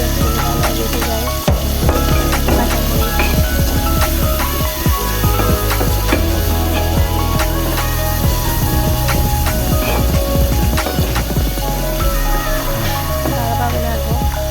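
A fish head fries with turmeric in a pan and is stirred. A loud, constant frying hiss runs alongside scraping and clinking from the stirring, with music playing throughout.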